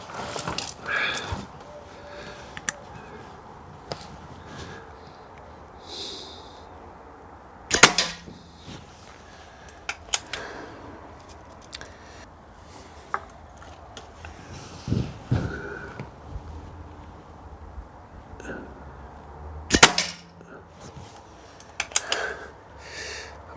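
An air rifle fires cheap pellets at a target with a few sharp, close cracks spaced several seconds apart, between quiet handling noises and scattered clicks.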